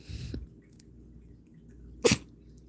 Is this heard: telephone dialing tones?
no